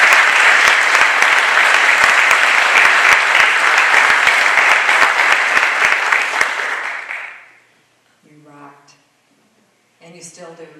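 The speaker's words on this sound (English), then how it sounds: "give that board a big round of applause" An audience at a Hall of Fame ceremony applauds the Board of Education with steady, loud clapping for about seven seconds, then the clapping fades and a speaker's voice begins.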